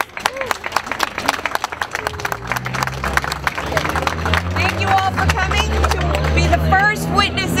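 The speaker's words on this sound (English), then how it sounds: "One more round of applause for the artists." Crowd applause at an outdoor public art unveiling in New York City, clapping mixed with cheers and chatter; a low musical hum rises beneath the noise and grows louder toward the end.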